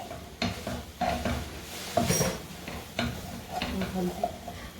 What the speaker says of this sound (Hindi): इसमें 2 मीडियम साइज प्याज चॉप किए हुए हमने डाल दिए हैं। मिक्स करेंगे।